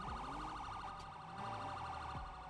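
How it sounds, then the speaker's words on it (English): A siren holds a steady, wavering tone in the distance, faint and unbroken, with no voices over it. "I couldn't hear over the siren."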